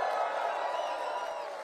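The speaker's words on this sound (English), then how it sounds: "Wow. What a crowd. What incredible energy." A large political rally crowd cheering and whooping in a steady, broad roar, heard from a distance and fairly faint, with no clear individual voices.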